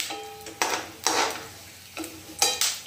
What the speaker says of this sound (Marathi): अगदी बारीक गॅसवर जर हे तळले ना शेंगदाणे तर खरपूस असे होतात,